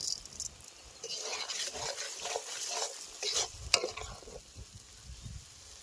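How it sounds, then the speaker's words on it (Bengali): Spice masala for achari chicken is stir-fried in oil, with quiet scraping and stirring strokes over a soft sizzle, close by and fairly faint. "মশলাটা প্রায় কষানো হয়ে এসছে, আর একটুখানি কষিয়ে তেলটা ছাড়লে পরে চিকেনটা দিয়ে নামাবো।"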